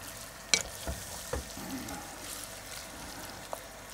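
Pork sizzles steadily as it is stirred in a pan, with a constant crackling fry and a few sharp scrapes and clinks of the utensil against the pan.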